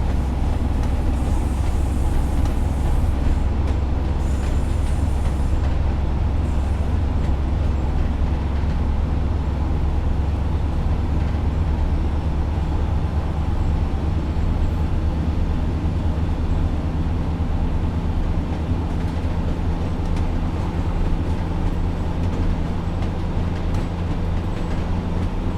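Northern Pacer diesel railbus in Train Sim World 4 running steadily on the line into Preston, a continuous low engine drone and rumble with rail noise, loud and unbroken throughout, no talking.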